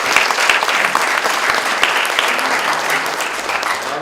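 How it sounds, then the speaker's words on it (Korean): Warm audience applause greets a panelist introduced at a presidential leadership debate forum in a Yeouido hall, a loud, dense burst of many clapping hands sustained evenly for a few seconds. "뜨거운 박수 부탁드립니다."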